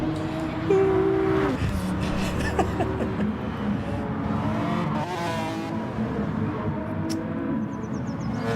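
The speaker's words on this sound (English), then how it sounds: "Sean, we've got an Alfa Romeo on track." An Alfa Romeo race car runs on track at a racing event. Its engine note rises and falls through gear changes as it passes, with faint tyre noise, somewhat distant and alone.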